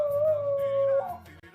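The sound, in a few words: dog barking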